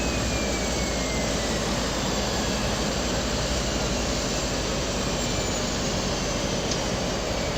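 Propellers of a De Havilland DHC-6 Twin Otter on skis spin in a flight simulator game, giving a loud, unbroken, steady engine and propeller roar with no voices.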